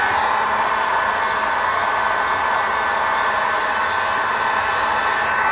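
A heat gun warms a Kydex sheet while shaping a Glock holster, giving off a steady, unbroken whooshing blower roar that holds at an even level throughout, with no talking.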